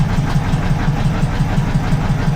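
A slow-moving tourist boat's engine chugs in a steady low rhythmic throb, loud and close, with no voices over it.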